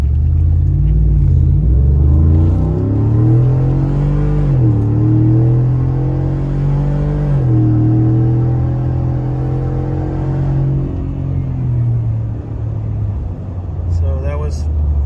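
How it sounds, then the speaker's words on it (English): A Ford F-150 fitted with an MBRP Street exhaust rumbles loudly through a wide-open-throttle pull across several gears, its deep engine note rising and dropping at each shift, close and continuous. "So that was a little wide open throttle pull through a few gears"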